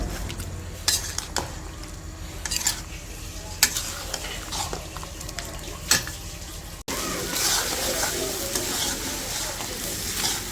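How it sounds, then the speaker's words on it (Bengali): Meat and tomatoes are stirred and fried with spices in a home kitchen pan, a spoon scraping and clinking against the metal in irregular strokes over a steady sizzle that grows louder and denser partway through. "মশলা দিয়ে কষানো হয়ে গেছে, এখন মাংসগুলো দিয়ে দিই, টমেটোগুলো দিয়ে দিই, দিয়ে কষে নিই এখন ভালো করে এইগুলোও।"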